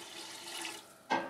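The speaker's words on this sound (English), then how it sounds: "We're gonna add 1 cup of apple cider vinegar" One cup of apple cider vinegar poured into a pan of cherry chipotle BBQ sauce mixture: a short, close liquid pour ending in a brief louder splash.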